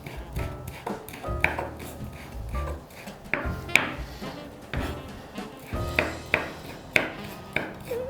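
A knife cuts finely through chili peppers on a board for goat meat rice, a run of close, sharp taps repeating in an irregular rhythm with soft scraping between strokes.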